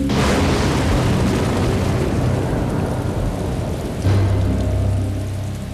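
Lightning strikes the Washington Monument, a heavy thunder crash rolling into a long rumbling boom with rain hiss, followed by a second low rumble near the end, loud and continuous.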